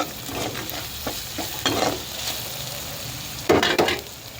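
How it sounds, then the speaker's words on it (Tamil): Ginger and garlic sauté in a pan for a paneer masala gravy, with a steady close sizzle broken by scraping stirs and a louder clatter of the spoon near the end; no talking. "இது நல்லா வதங்கட்டும்."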